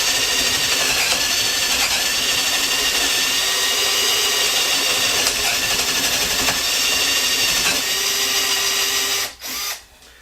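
A Hercules 12 volt drill/screwdriver in drill mode boring through a board, a loud steady high-pitched motor whine held for about nine seconds, then it stops abruptly with a brief sputter.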